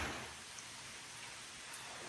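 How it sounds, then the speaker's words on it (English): Steady drizzle falls outside on an overcast day, a soft continuous hiss of rain with no voices. "Can you hear the rain outside?"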